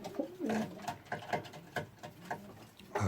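An Andalusian pigeon cock coos in a soft, repeated run of low throaty calls with light shuffling patter, close and fairly quiet, with no talking.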